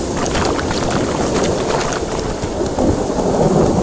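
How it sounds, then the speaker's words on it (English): A loud, dense roar of thunder from a lightning strike in The Witcher 3 fills the scene with sustained rumbling and rain-like hiss, continuous and close, with no talk. "Lightning strike."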